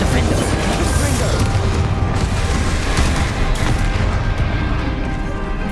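Confringo spell blasts in Hogwarts Legacy combat, loud sustained booming and crackling explosions with a steady, dense rumble throughout, voices underneath.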